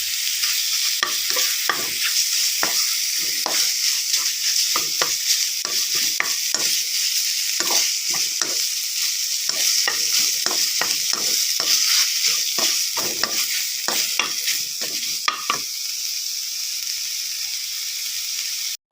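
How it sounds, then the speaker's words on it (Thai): Pork being stir-fried in a pan for a Thai curry-paste bean stir-fry, a steady bright sizzle with many quick scraping spatula strokes throughout, close and loud, no talking. "ใส่น้ำเติมไปนิดนึงนะคะ เพื่อให้หมูสุก แล้วก็ผัดให้สุกเลย"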